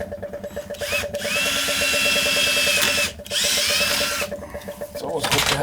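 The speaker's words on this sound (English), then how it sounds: "It's always good to drill a hole in this thing." A power drill bores a 3/16-inch hole into the pipe of a Zoeller sump pump, whining steadily and loudly over a constant background hum, with two short pauses in the drilling.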